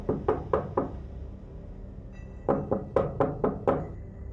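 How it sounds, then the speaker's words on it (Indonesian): Knocking on a door at midnight in a horror story set deep in the Kalimantan forest: a group of four sharp knocks, a short pause, then a faster burst of about six louder raps, close and dry with no voices. "tiba-tiba ada suara yang mengetuk pintu."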